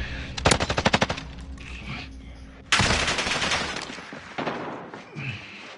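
Gunfire in Call of Duty Resurgence: a rapid machine-gun burst of sharp close shots, then heavier gunfire and explosive bursts in loud clusters, with game effects around them.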